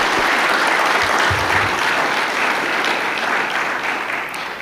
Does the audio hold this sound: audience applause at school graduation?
yes